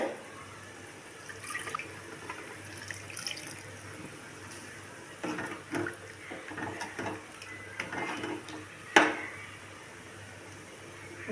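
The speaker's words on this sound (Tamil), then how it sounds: "கொஞ்சோண்டு தண்ணி போட்டு" Water trickles and splashes softly into a pot of green gram curry, with light stirring and clinks, faint and uneven, ending in one sharper knock.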